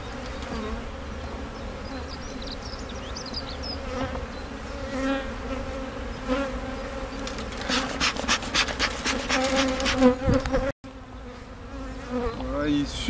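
Honeybees swarm in an open beehive at Chartres, a dense close buzz with individual bees zipping past the microphone, getting louder toward the end, with handling noise.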